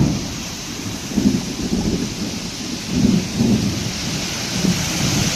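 Heavy rain pours steadily during a windy thunderstorm, with low thunder rumbling through several swells under the constant hiss of the downpour. No one speaks.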